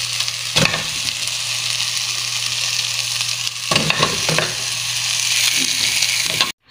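Chicken pieces sizzling in a hot pan while Arabian macaroni is cooked, a steady bright frying hiss with a low hum and a few clanks of stirring, cut off abruptly at the end.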